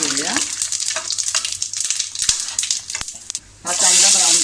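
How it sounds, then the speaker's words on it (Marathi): Onion sautéing with cinnamon, cloves and shahi cumin for egg biryani, a loud, close frying sizzle crackling with sharp spatters, briefly dipping before surging into a stronger hissing rush; a voice speaks briefly at the start and end. "हा कांदा ब्राऊन करून घेऊया त्याच्यामध्ये."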